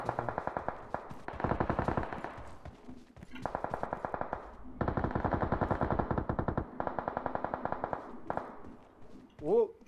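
Automatic gunfire from the PUBG Mobile video game on the Livik map, sounding as repeated loud rapid bursts with short gaps, close and dominant throughout.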